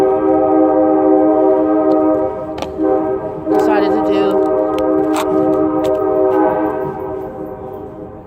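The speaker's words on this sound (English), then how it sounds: "I'm looking over like the train is annoying me" Train passing near Stone Mountain with a loud, sustained multi-tone horn blaring over rumbling wheels; a voice speaks briefly partway through.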